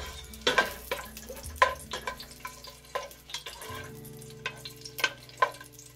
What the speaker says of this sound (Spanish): vamos a sofreír los ajos